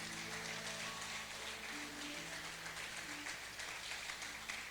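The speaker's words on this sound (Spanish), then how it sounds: "Dele un aplauso a Dios, dele un aplauso a Dios." A church congregation claps together during a sermon, a continuous, fairly faint wash of applause with a sustained tone ringing beneath it, steady throughout without breaks.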